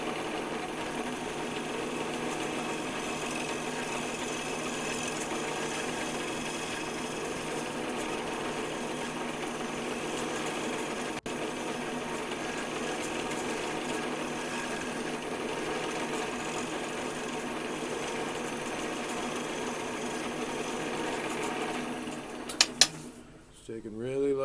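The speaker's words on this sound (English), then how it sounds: "I'm keeping a gap between the upper wing and the bowl so I can look right down and see where the tool is cutting on this edge" A woodturning tool takes light cuts on the edge of a cracked, split wooden bowl spinning on a lathe, giving a steady whirring, scraping drone that runs unbroken and fairly loud, ending in a few abrupt knocks.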